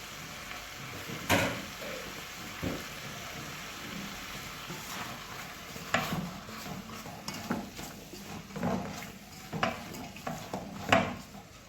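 Vegetables fry in a pan while a spoon stirs them, with soft sizzling beneath repeated scraping and clinking of utensil against metal, close and irregular.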